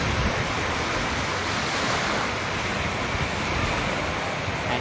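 Sea waves wash onto the shore at Binmaley beach in Pangasinan, a steady, dense rush of surf with some wind noise and no voices.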